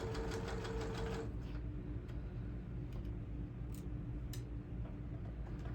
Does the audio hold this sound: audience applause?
no